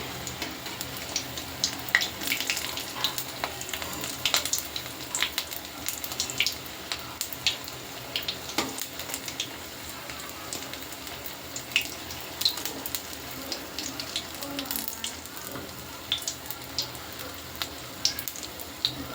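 Steady crackling sizzle of hummingbird tree flower (bakphul) fritters frying in hot oil, continuous and close, with scattered pops and no talking.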